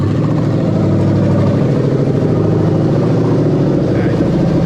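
Toyota Celsior LS400 engine, a right-hand-drive manual car from 1998–2000 running on a test wiring harness, idles with a steady, loud, even drone after starting, no voices over it.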